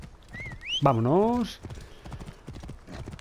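Armored horse in Assassin's Creed Origins, wearing a tiger saddle, neighs once loudly and then gallops off with steady clip-clop hoofbeats, while someone speaks briefly over it.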